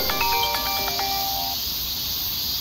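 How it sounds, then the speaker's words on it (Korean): A phone ringtone for an incoming call plays a short run of bright electronic tones, clear and moderately loud, then stops, leaving quiet background. "전화 왔어."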